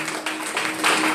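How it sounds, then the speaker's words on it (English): A church congregation claps during a Pastor's Appreciation Day service at Dunamis Demonstration Center, a dense and steady wash of many hands that swells a little louder toward the end, with no clear talk over it. "Clap your hands"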